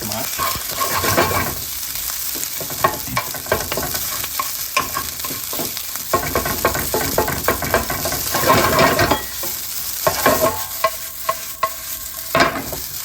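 Oil sizzles steadily in a heated frying pan while pork fried rice is cooked, a continuous close frying hiss with repeated scraping and stirring clatter from a utensil against the pan throughout.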